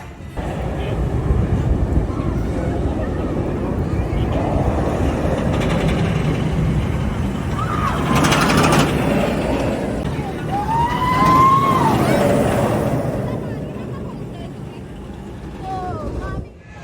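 Goliath, a hypercoaster at Six Flags Over Georgia, rumbling steadily along its track, a loud sustained roar with wind noise and faint high squeals and whines rising near the end.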